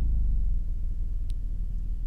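A BMW Isetta engine in the video game Car Mechanic 2018 hums as a quiet, steady low rumble throughout, with no talking over it.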